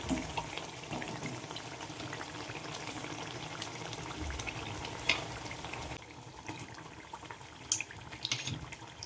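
Potato fritters fry in hot oil over a low flame. A dense, steady sizzle and bubbling continues close by throughout and eases slightly toward the end, with no talk.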